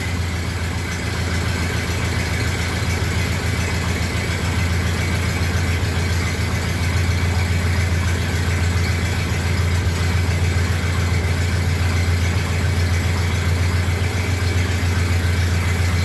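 A Ford Model A pickup engine idles with the choke pulled partly out, a steady low rumbling chug that holds even and fairly loud throughout, no talk over it.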